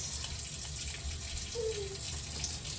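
Hot water running from a kitchen tap while mixing bread dough, a steady broadband hiss of flowing water throughout, with a brief clatter at the end.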